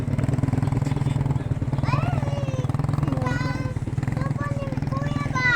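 A motorcycle engine idles with a steady, close, rapid pulsing throb by a river, while children's voices chatter and call over it.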